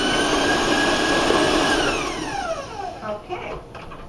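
A stand mixer with a paddle beating cookie dough at a raised speed gives a steady loud whir, with the motor pitch sliding downward partway through and the sound turning uneven near the end.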